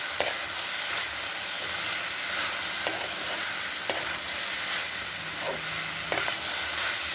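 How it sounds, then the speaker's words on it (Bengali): Capsicum is stirred into a frying mixture in a pan under a constant close sizzle and hiss, with a few sharp utensil knocks and scrapes against the pan spaced a second or more apart. "ক্যাপসিকাম দিয়ে ভালো করে মিক্স করে নেবো"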